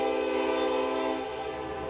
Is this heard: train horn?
yes